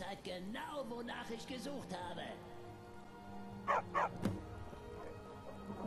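A dog in Skyrim gives a short burst of a few quick barks near Falkreath, and a single thud follows. Speech runs throughout, and the barks come in a cluster partway through.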